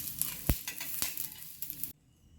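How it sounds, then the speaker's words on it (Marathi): Ingredients fry in a little oil in a pan for a vegetable dish, giving a soft sizzle broken by a few sharp clinks of a utensil against the pan, fairly quiet and close, with no talk. "कमी तेलावरच आपल्याला हे सर्व जिन्नस फ्राय करून घ्यायचे आहे"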